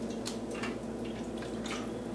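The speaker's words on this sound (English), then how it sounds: "what I'm going to do first is put a little bit of water into the bag" Water is poured into a plastic freezer bag holding coho salmon fillets, giving soft splashy trickles and drips over a faint steady hum.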